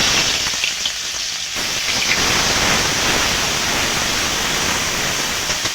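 Onion paste hits hot oil in a wok, starting with a quieter sizzle before a dense, loud, roaring crackle swells and continues evenly like heavy rain, close up and with no voices.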